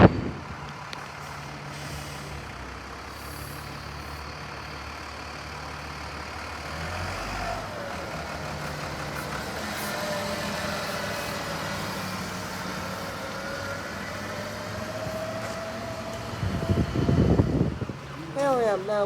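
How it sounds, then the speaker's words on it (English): An Alexander Dennis Enviro 400 Trident double-decker bus pulls away from Cheek Street beside the Exeter bus station, its diesel engine rumbling and rising in pitch as it moves off, with a hiss of air brakes and street noise near the end. "let's watch this Enviro 400 Trident leave Cheek Street, located next to the bus station, on its way towards Cranbrook"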